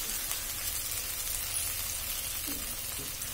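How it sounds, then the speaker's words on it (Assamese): Dry fish chutney fries in oil in a pan, giving a steady, close hiss and crackle of sizzling that holds evenly through the whole clip, with a faint stir or scrape near the end. "অকণমান ভাজিব লাগিব যাতে চাইডেদি তেলটো ওলাই যায় ধুনীয়াকৈ"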